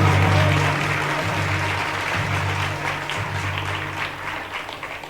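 A live magic show audience claps in sustained applause, a dense wash of hands that stays strong and then slowly fades, with a few voices mixed faintly underneath.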